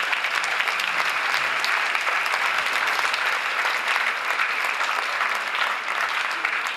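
At the close of a dance school recital, a large audience breaks into loud, sustained applause, dense and even throughout with no talking over it.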